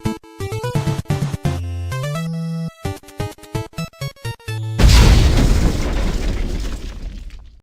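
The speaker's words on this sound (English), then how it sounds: "Perfect dark grenades to be exact." Grenade explosions from the N64 video game Perfect Dark: a run of clipped, tonal game sound effects followed by a loud burst that decays into a long crackling rumble, with no talking.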